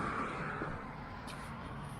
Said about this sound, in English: you can hear those cars, so you don't chance it when you can hear them